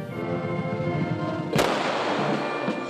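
A single sharp rifle volley fired as a military salute at a soldier's funeral in Lviv, loud and sudden, cutting through sustained military band music and leaving a brief echo.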